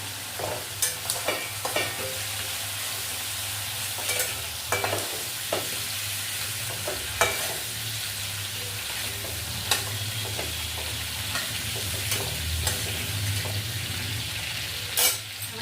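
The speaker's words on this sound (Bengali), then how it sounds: "চিংড়ি মাছটা ভাজা হয়ে গেছে, আমি এরকমভাবে চিংড়ি মাছটা ভেজে নিয়েছি" Prawns frying in hot oil in a pan for a Bengali banana-flower (mocha) dish: a steady close sizzle with repeated scraping and stirring clicks from a utensil, no voices.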